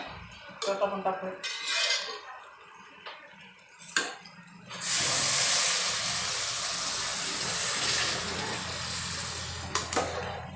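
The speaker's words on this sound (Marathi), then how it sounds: "आता आपण उकळतं पाणी घालूया." Boiling water is poured into a pot of rice being cooked for egg biryani: clinks and scrapes of utensils come first, then a loud, close rush of pouring water and sizzling steam hiss that slowly settles.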